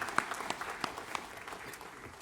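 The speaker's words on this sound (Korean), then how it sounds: "영광의 박수를 하나님께 드리겠습니다" A congregation's applause during a Korean church service, soft and somewhat distant clapping with a few louder individual claps standing out.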